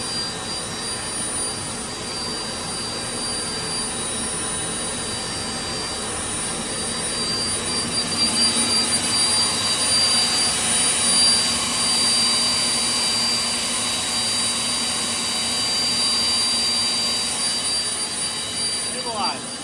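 A jet engine fitted in a Camaro runs continuously with a loud, steady turbine roar and high whine, surging slightly midway, while people talk over it.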